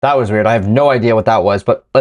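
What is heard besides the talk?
No everyday noise stands out behind the speech.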